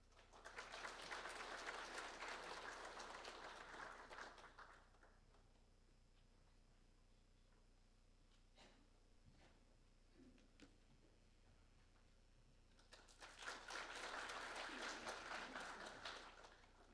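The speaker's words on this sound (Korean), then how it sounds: "큰 박수로 맞이하여 주시기 바랍니다" A seminar audience claps to welcome a government minister, a few seconds of steady, full applause that gives way to a quiet room before a second round of clapping swells near the end.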